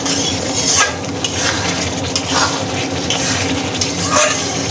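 Spices and potatoes stir-fry in a pan for a thin tara baim fish broth, loud close sizzling with busy, irregular scraping and metallic clatter of a spatula against the pan.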